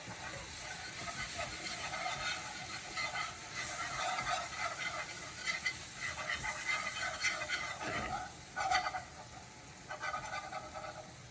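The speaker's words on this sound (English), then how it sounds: "Just gonna add a little bit in and start whisking faster." A whisk scrapes and clicks rhythmically through a cream sauce in a pan, with a faint steady sizzle beneath. The quick metallic taps come close but soft.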